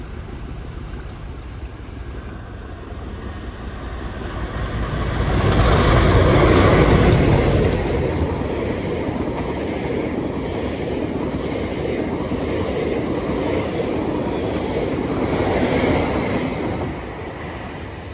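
A Chiltern Railways passenger service on the Leamington Spa to Stratford-upon-Avon line approaches, a steady rumble and rail roar that swells to a loud peak as it nears, then continues as a sustained rolling drone.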